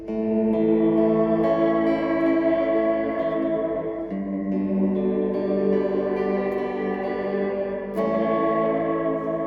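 An electric guitar runs through a Fender Reflecting Pool pedal set to tape echo, sustained chords ringing with repeating, smeared echoes and distortion, each new strum blending into the decaying trails.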